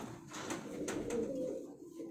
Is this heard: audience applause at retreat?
no